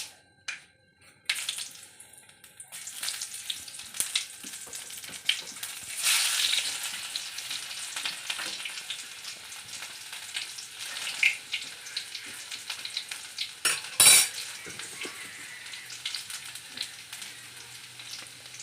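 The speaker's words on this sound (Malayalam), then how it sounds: "നമ്മുടെ കടുക് പൊട്ടുമ്പോഴത്തേക്ക് 2 ഉള്ളിയും കൂടെ അരിഞ്ഞ്" Mustard seeds and onions sizzle and crackle steadily in oil in a pan, with a brief louder burst of hissing partway through and occasional stirring clatter.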